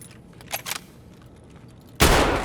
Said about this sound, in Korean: 지금 지게차 쪽에서 총소리 나고 있고요